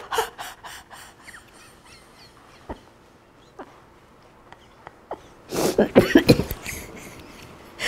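Several short, sharp coughs burst out in a cluster near the end of a laughter therapy breathing exercise, after quieter scattered clicks and breathy noises.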